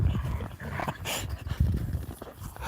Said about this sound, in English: You see all three dogs are having a ball playing.